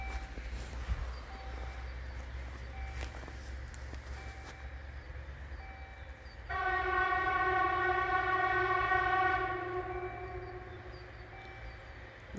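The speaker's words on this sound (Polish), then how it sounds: "Nie wiedziałem, że Gamma ma tak donośną trąbkę." A Pesa Gamma locomotive sounds a loud, sustained multi-tone horn for a few seconds at a level crossing on Polna Street in Toruń, over the rumble of the passing engine and the crossing's steady ringing.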